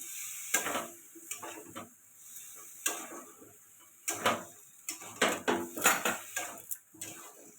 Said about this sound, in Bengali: একটু সামান্য জল দিয়ে কষাতে থাকবে জলটা দিয়ে কষাই মশলাগুলো পুড়ে যাবে না